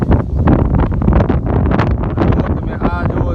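Strong gusty wind buffets the microphone during a stormy pre-monsoon day in Porbandar, a loud continuous roar and rumble filling the clip from start to finish.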